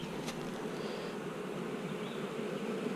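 Honey bees hum around an open hive during an inspection, a soft continuous buzzing with a few individual bees passing close, no talking.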